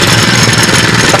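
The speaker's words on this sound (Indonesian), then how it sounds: "Mematikannya pada mesin ini." A small machine engine idles with a steady, loud, buzzing rumble just before being switched off, running alone without pause.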